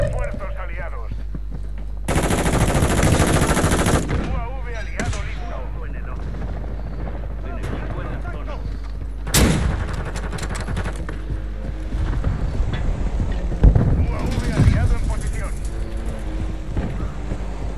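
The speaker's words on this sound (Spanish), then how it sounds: "Helicóptero de carga en camino." Constant low thumping rotor hum of a cargo helicopter in Call of Duty: Modern Warfare III under bursts of gunfire and explosions, with voices talking over the din.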